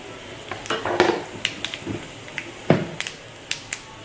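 Cumin seeds dropped into hot oil in a Bengali pumpkin dish, crackling in sharp scattered pops and short sizzles over a low frying hiss, with a few light clinks of utensils nearby.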